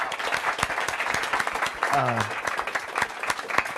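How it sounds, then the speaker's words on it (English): Audience applause at a book talk: a modest crowd claps in a loose, uneven patter, with individual claps standing out and a brief whoop rising through the middle. "Can you give them a round of applause?"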